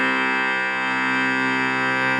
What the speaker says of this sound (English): your C bass should sound like this.